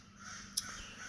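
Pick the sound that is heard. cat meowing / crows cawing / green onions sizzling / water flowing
crows cawing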